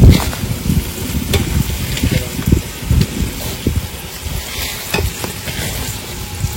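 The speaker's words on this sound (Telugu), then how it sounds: "చికెన్ వేసుకొని మంచిగా కలుపుకోవాలి, మొత్తం కలిసేటట్టుగా తిప్పుకోవాలి" Chicken stirred with fenugreek leaves in a hot pan, loud close sizzling with dense rhythmic scraping and turning of a spoon against the pan, continuous throughout, a voice faintly present underneath.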